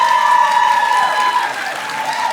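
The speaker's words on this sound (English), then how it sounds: "So, now, by your applause, we're gonna vote." A studio audience breaks into sustained applause, a dense, even wash of clapping that holds steady and tapers slightly toward the end, with no voices over it.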